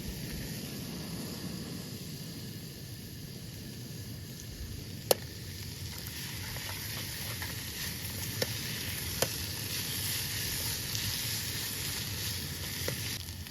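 Mustard seeds and diced sultanas sweating slowly in a pan outdoors on a shore cook, a steady gentle sizzle with a few sharp pops and clicks scattered through, close and continuous with no talking.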